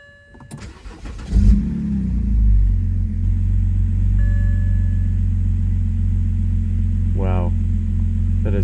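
A BMW E90 with the N52 straight-six cranks and catches, then settles into a steady, smooth idle with a deep, even rumble that holds close and loud for several seconds.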